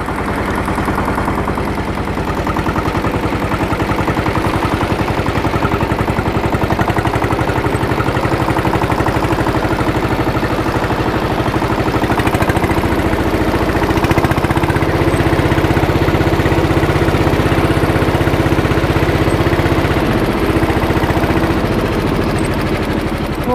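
A Skaut T-18 18 hp diesel tractor runs steadily nearby, its engine chugging in a loud, even rhythm throughout with no pauses.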